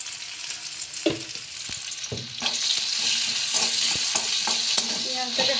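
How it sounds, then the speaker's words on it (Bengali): Onion frying with cumin in a little white oil in a kadai. A steady hiss of sizzling oil, broken by sharp scraping knocks as a spatula stirs against the pan at irregular intervals, close and clear with no talking. "পেঁয়াজটাকে হালকা করে ভাজবো।"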